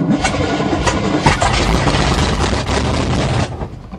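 A 1977 GMC truck with a 400 small-block engine starting in the snow: loud, close cranking that catches into a rough, sputtering run, holding steady before easing off near the end.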